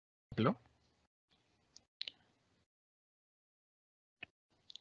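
A computer mouse clicks a few times, sharp isolated ticks spaced apart after a short burst of sound, quiet and close.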